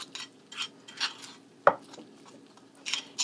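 A utensil mixes deviled egg filling in a bowl, giving soft intermittent scrapes and one sharper clink against the dish, close and quiet.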